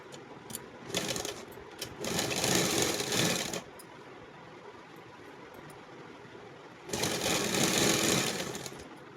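A sewing machine stitches an off-shoulder top made from plastic shirting fabric in two loud, close bursts of rapid whirring separated by a quieter pause, with short taps at the start.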